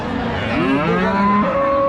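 A cow at a cattle market gives one long, drawn-out moo, close and clear, rising and falling in pitch.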